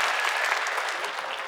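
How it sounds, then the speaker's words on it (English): Crowd applause plays as an inserted effect, a dense burst of clapping and cheering that holds steady, then eases slightly toward the end. "The crowd goes crazy."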